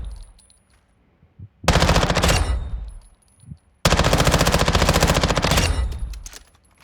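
Two long automatic bursts from an SMG in Modern Warfare 2 (2022), loud, rapid and close, separated by a short pause with faint handling sounds, each about two seconds long.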